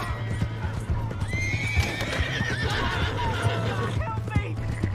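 A horse in Red Dead Redemption 2 whinnies in a rising, wavering call over clip-clopping hooves, mixed with shouting voices and a steady low hum of game sound.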